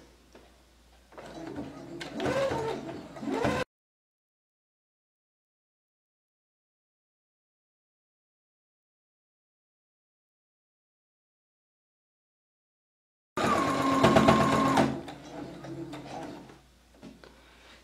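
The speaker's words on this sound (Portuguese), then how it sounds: "vou passar uma costurinha prendendo. Vou fazer essas costurinhas nas duas laterais" A sewing machine stitches the side seams of a notebook bag in two short bursts of rapid mechanical whirring, separated by a long silence.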